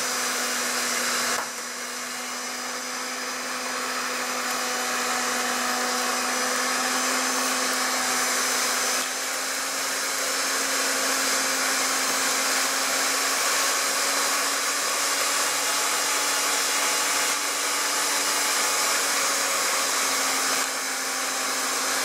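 Electric mixer beating chocolate cheesecake batter, a continuous steady whirring motor hum at close range running unbroken for over twenty seconds, no talk.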